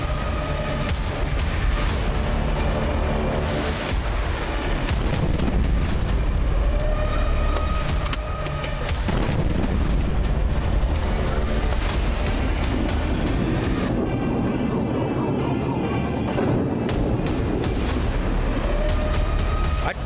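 Heavy booms and blasts from a missile attack on Jordan roll one after another, loud and reverberant, with crackling debris and rumbling aftershocks between impacts.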